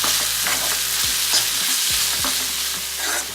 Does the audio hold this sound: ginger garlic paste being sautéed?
yes